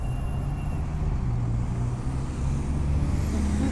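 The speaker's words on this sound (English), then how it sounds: "Ambulances, fire trucks." Heavy road traffic rumbling past on a highway between New Jersey and Maryland, with trucks and larger vehicles giving a continuous loud low drone and a faint high tone drifting in near the end.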